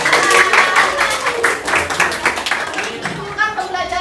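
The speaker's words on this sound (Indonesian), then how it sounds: "beri tepuk tangan untuk kelompok 5." Classroom applause for group 5 during an Indonesian lesson: a dense patter of many hands clapping at once, steady and fairly loud across the whole stretch, with children's voices chattering underneath.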